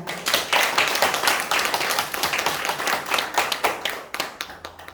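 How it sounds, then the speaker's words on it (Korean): A church congregation clapping in praise at the close of a Sunday sermon, loud and fairly rhythmic, with individual claps growing sparser and thinning out toward the end. "우리 하나님께 영광의 박수 올려드리며 말씀을 마치겠습니다"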